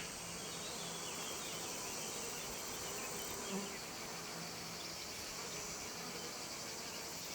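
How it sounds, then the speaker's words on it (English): Steady buzzing of bees and bumblebees close by around sunflowers, a continuous insect drone filling the air with faint outdoor ambience. "Insects, in particular bees and bumblebees, pollinate each flower"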